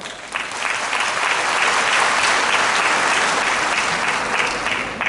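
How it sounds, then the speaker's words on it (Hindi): Steady, loud applause from an audience at the opening ceremony of a self-help group fair, continuous clapping filling the whole stretch without a break. "सही किया तो ताली बजाओ"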